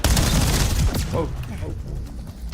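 Video game gunfire in a loot shooter, a dense loud burst of rapid shots that stops abruptly and gives way to quieter scattered sounds, with a voice talking over it.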